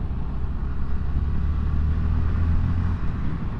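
A Honda GB350c motorcycle rides in second gear with a steady, low engine rumble that holds close and even throughout, with no voices.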